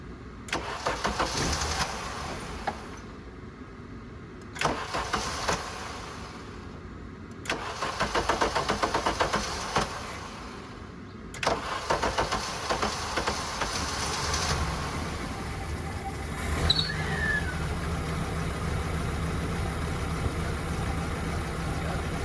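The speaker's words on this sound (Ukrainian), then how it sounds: "І нарешті машина завелась." A 1983 Audi coupe running on gas is cranked in several bursts, each separated by a pause, until the engine finally catches. It then settles into a steady idle, close to the listener, with no speech.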